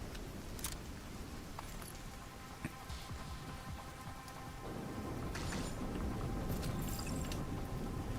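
Steady rain falling in a video game, a dense continuous hiss of drops with occasional low rumbles, growing slightly louder toward the end, heard alone without talk.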